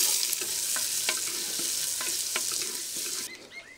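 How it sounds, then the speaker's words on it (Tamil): Small and large onions with green chillies sizzle in hot oil in a village kitchen pan, a steady crackling fry with a few spoon stirs and scrapes, close and moderately loud. "ரெண்டையும் சேர்த்து இப்போ நல்லா வதக்கிக்கலாம்."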